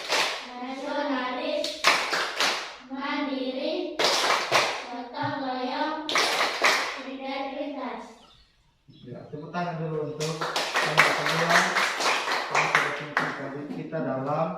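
A fifth-grade class performs a chanted clapping routine, several sharp bursts of hand claps alternating with children's chanted voices in a classroom, close and lively.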